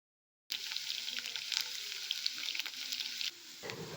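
Mashed garlic hits hot oil after a short silence, then a loud, close, steady hiss and crackle of frying, easing slightly toward the end.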